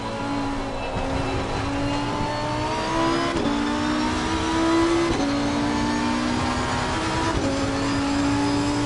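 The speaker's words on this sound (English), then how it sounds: "You can even hear that TC kicking in and doing its job with the RPM just kind of like rattling" Race car engine in Assetto Corsa Competizione, with traction control cutting in so the RPM rattles; a steady, loud engine drone with stepped pitch shifts as gears change, continuous throughout with no talk.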